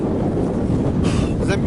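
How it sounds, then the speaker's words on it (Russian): Strong, cold wind blowing at a riverbank during fishing, roaring loudly into the microphone as a continuous low buffeting rush. "Блин, замерз на ветрище такой поднялся"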